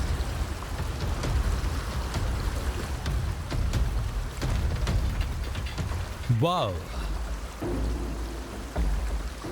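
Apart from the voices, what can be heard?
flowing stream water in the forest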